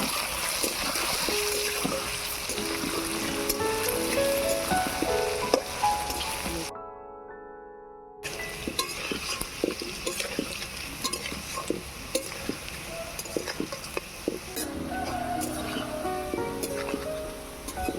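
Taro pieces frying in oil with a little turmeric powder, a steady close sizzle with stirring scrapes throughout, broken by a brief quiet gap midway before the frying noise resumes.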